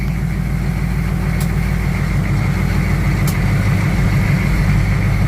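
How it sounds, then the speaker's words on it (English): A 6.5 turbo diesel truck engine fitted with an S475 turbo, with a steady loud drone and turbo whine heard close up and continuous, with no talking. "Turbo's definitely a lot louder."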